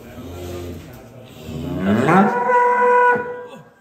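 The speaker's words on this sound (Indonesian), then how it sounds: "Kita mau ngeluarin sapi jumbo ini, sapi terbesar yang ada di Lembu Suro." Very large European-breed cow lets out a loud, near moo that swells and holds for about two seconds after a softer low lowing start.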